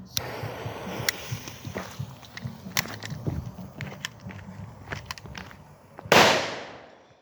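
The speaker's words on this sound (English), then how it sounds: "These really do bang" Small professionally made firecrackers crackle and pop in a rapid irregular string of sharp snaps, ending with one louder bang that fades into a hiss.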